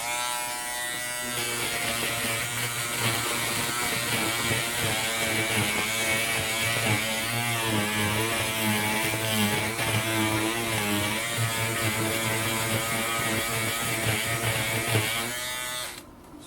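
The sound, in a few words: Peggy's Stitch Eraser electric trimmer removing stitches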